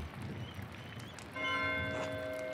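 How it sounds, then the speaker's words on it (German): A church bell rings in a medieval village in the video game Pentiment, a steady sustained ringing tone that rises over a quiet, murmuring ambient background partway through. "Warum läutet Mathieu schon äh, die Glocke?"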